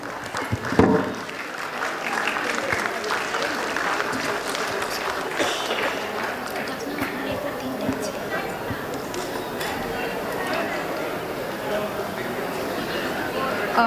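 An auditorium audience at a medical college convocation claps to encourage graduating juniors, a sustained crowd applause with a sharp burst at the start, mixed with chatter and talk throughout.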